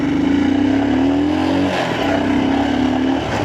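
A Royal Enfield Himalayan 410 motorcycle riding on the road, its engine note rising as it accelerates, easing briefly, then pulling again, loud and close with wind rush.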